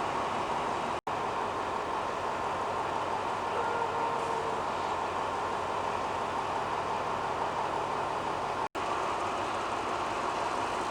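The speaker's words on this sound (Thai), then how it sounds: "รถจักรสองหัวกำลังเคลื่อนขบวนออกจากลงจากทนบุรีไปแล้วนะครับ" A double-headed locomotive train pulls out of the Thonburi depot, giving a steady, continuous rumble and rolling rail noise with no clear gaps, heard alone throughout.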